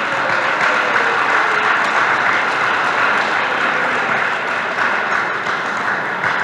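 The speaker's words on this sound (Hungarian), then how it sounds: "Nagy taps a mesternek, így van." Sustained applause from a crowd at a sports ball in Mezőtúr, a dense, even wash of clapping that stays loud throughout without pauses.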